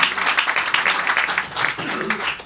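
An audience at a live music session claps in a dense, sustained round of applause, loud and close, with some voices mixed in.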